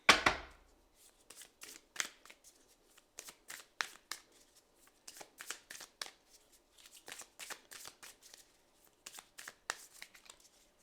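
A Kali tarot deck is shuffled by hand in quick, riffling bursts of card slaps, close and fairly quiet, repeating steadily with brief gaps and no speech.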